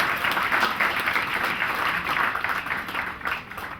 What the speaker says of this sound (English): A round of applause for Ruveneko Parirenyatwa.